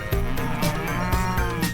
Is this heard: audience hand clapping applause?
no